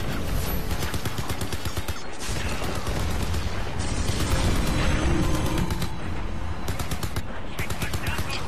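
Continuous automatic gunfire and explosive bursts in the first-person shooter Crysis 3, loud and dense throughout with rapid rattling shots layered over booms.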